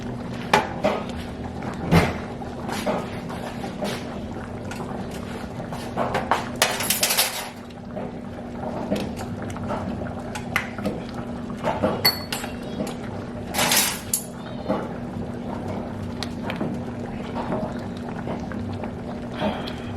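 Clinks, taps and clicks of a Tony's seasoning container being fiddled with while someone struggles to open it, in a kitchen while seafood gumbo is being made. Near, intermittent handling sounds over a steady background hum.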